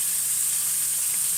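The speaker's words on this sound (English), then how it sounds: "I've got my chips there cooking" Chips frying while a homemade burger is cooked, a steady close hiss and sizzle that stays even and continuous for the whole short stretch.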